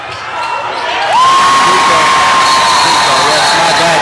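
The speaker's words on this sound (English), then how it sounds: "The Hornell crowd is a-rockin'" A Hornell home crowd roars at a boys' varsity high school basketball game against Canisteo-Greenwood, the noise swelling loudly after a second into a sustained din, with a steady horn-like tone ringing over it.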